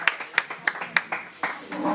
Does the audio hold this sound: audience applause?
yes